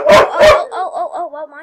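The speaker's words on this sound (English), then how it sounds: "my dogs are barking" Two loud, close dog barks ring out in a home, followed by a run of softer yips and whimpering whines that fade away, with no talking.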